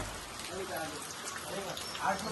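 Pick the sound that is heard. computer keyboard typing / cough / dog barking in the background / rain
rain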